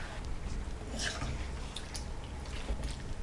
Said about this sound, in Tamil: ஃபஸ்ட் நம்ம ஒரு 1/2 டம்ளர் அளவுக்கு தண்ணி ஆட் பண்ணிக்கலாம்.